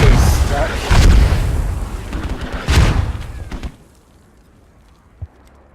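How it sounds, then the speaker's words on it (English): Mortar fire booms in a military strategy video game, two heavy low blasts with rumbling tails close together, then a quieter stretch with one small distant thud, under a caster's voice. "Oh, mortars."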